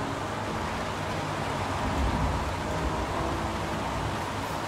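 Steady, dense rainfall in the video game Heavy Rain, a continuous even wash of falling water with no breaks, moderately loud and heard alone.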